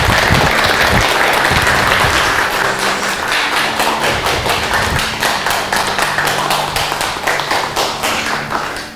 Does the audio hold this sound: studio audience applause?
yes